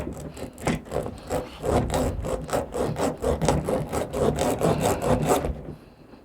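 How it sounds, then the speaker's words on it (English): Reamer tool rubbed back and forth inside a punctured car tire, a rhythmic rasping scrape repeated about a dozen times in quick strokes, close and fairly loud with no talking. "take the reamer tool and start reaming the tire"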